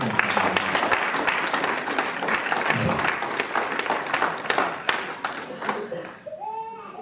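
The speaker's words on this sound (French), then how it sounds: "Je l'acclame très fort." A church congregation at a worship service claps and applauds loudly and continuously, a dense crowd of hands that tapers off near the end as a voice begins to speak.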